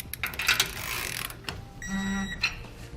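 A ratchet turning a 9/16 socket snugs down suspension bolts while a Timbren system is installed on a 2016 Ford F-series truck: a rapid clicking run near the close, set against steady mechanical background noise.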